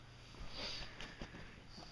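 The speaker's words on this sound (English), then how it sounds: "He's sniffing the camera." A cat sniffs close and quietly in short rapid bursts, a few soft snuffles repeating over a couple of seconds with no voices.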